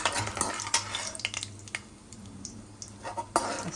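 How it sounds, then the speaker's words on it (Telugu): Peanuts sizzling in hot oil in a home kitchen pan, with scattered clinks and scrapes of stirring over a soft continuous fry, fairly quiet and close. "కొంచెం నూనె వేడెక్కాక ఫస్ట్ పల్లీలు వేయాలి."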